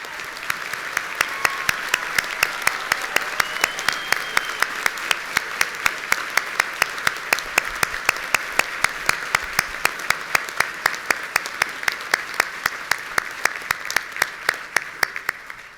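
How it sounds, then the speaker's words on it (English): A commencement audience applauds veterans and active-duty service members at a graduation ceremony, a steady, dense round of clapping from a large crowd that holds evenly for the whole stretch, with no voices over it. "Please join me in a round of applause."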